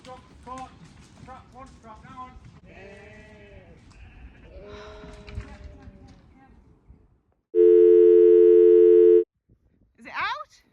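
Sheep bleat repeatedly at close range on a smallholding, several wavering calls overlapping across the first seven seconds, followed by a loud steady electronic tone and a brief final bleat.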